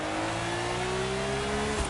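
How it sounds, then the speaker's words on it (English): Deep, steady roar of a McLaren racing car engine revving, with a sustained rising tone held for about two seconds, close and loud. "Listen to it. Listen to that deep roar."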